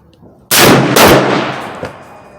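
A Browning BLR lever-action rifle in .358 Winchester is fired at an upper target with open sights outdoors, one loud sharp crack followed by a second burst and a fading echo.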